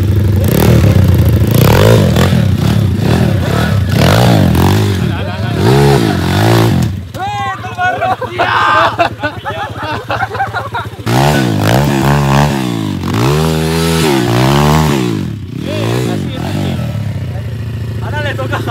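A motocross motorcycle revs and rides, with loud repeated throttle surges and clattering, easing into a quieter lull midway before revving hard again.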